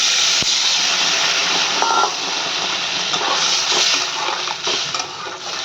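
Water is poured into well-fried cooking spices for a potato and pointed gourd curry, heard as a loud, sustained hissing sizzle and bubbling close by, with no speech.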